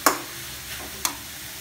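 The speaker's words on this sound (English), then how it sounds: "And mix, continue mixing" Hot and spicy vegetable noodles stirred in a pan, with two brief scraping strokes of a utensil and a faint sizzle between them, quiet and close.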